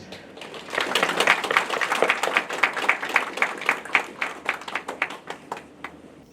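An audience applauds a speaker being welcomed on stage at a talk, with many hands clapping together that swell quickly and then thin into scattered, slowing claps before dying away.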